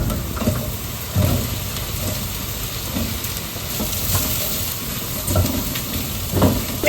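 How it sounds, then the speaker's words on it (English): Mushrooms and garlic fry in a pan, giving a steady sizzling hiss broken by a few louder clatters and stirring knocks, close and continuous with no talking. "I'm just gonna add the mushrooms like straight away because I feel like I'm gonna burn this garlic"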